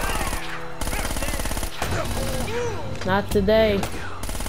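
Bursts of SMG gunfire from the Uncharted: Drake's Fortune video game rattle in rapid clusters among music and effects, with someone talking briefly over the shooting.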